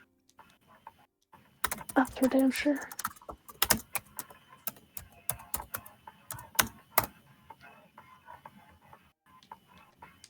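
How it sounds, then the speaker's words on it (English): Rapid, irregular clacking of keys on a computer keyboard fills the background, bursts of quick taps and pauses, while a person talks over it briefly. "That's not me that's typing"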